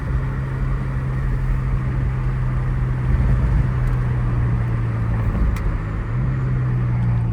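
BMW F90 M5 Competition with titanium straight pipes driving gently in eco mode while warming up, a steady low exhaust drone and road rumble heard from inside the car, continuous with no talking.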